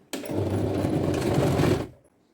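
A sewing machine runs in one steady burst of just under two seconds while stitching a kurti seam with a half-inch margin, close and clear, then stops abruptly.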